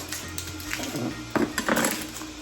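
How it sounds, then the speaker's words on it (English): A knife chopping an onion on a cutting board: several uneven, quick taps of the blade on wood, fairly close and clear, with a faint kitchen hum behind them. "So we chop up the onion like this"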